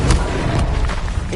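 Incendio fire spell cast in Hogwarts Legacy, a short loud whooshing burst with a heavy low thump, brief and close, with no talk over it.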